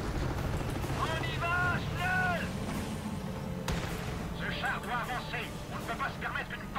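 Tiger tank cannon fire in the video game Company of Heroes: Tales of Valor: a sharp, heavy blast rises out of constant rumbling battle noise and distant gunfire, with someone talking over it.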